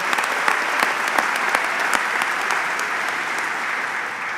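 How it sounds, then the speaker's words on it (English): A crowd at a facility opening event applauds the Maumelle High School performers, a loud sustained round of clapping with sharp individual claps standing out early before settling into an even roar. "give another round of applause to the Maumelle High School for kicking off this event"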